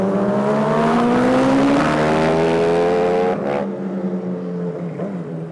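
A Honda Fan 125 motorcycle fitted with a Hornet engine revs hard on a city ride, its loud whine rising steadily for about three seconds before abruptly cutting back and settling to a lower idle.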